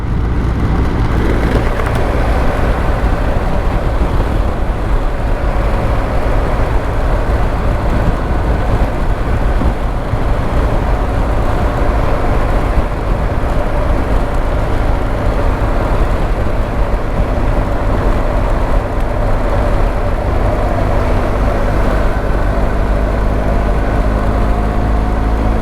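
BMW motorcycle engine accelerating with plenty of power, a loud continuous drone with rising, shifting tones under heavy wind roar across a long stretch.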